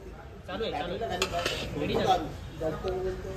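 A large metal wok clanks and scrapes close by, a few sharp knocks over a busy stretch of handling while food is prepared for a Satyanarayan puja offering, with murmuring in the background.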